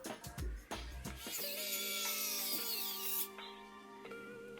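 A power screwdriver drives tiny screws into bag hardware on a sewn bag: a few clicks, then a steady motor whine for about two seconds, followed by a quieter hum and light handling noise, close and without talk.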